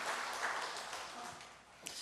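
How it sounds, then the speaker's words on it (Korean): A church congregation gives soft, steady applause in thanks to its worship team, the clapping fairly distant and even, with one brief sharper clap near the end. "우리 소리그릇 찬양팀에 감사의 박수로."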